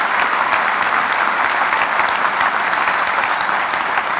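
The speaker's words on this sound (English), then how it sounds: "please join me in a warm welcome to the stage, Admiral Daryl Caudle" Audience at a Naval War College graduation ceremony in Newport applauds to welcome the Chief of Naval Operations to the stage, a loud, dense, steady clapping that fills the whole stretch with no voices over it.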